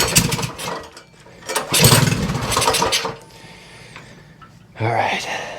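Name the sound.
Predator 224 mini bike engine trying to start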